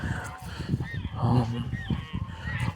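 Domestic geese honk repeatedly at close range on a cloudy small farm plot in the Russian Far East, their calls overlapping in a dense, busy cluster with a louder burst midway.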